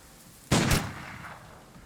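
Gunfire in the video game Urban Strife: two sharp, loud bursts close together, followed by a fading tail, with no talking.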